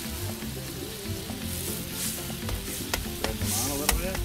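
Shrimp sizzling and frying in a paella pan, a steady close crackle with scattered sharp pops and a few stirring scrapes, no talk over it.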